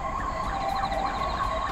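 An emergency vehicle siren wails close by on a city street during a run, its loud rising and falling tone sweeping in quick cycles over road rumble, with no speech.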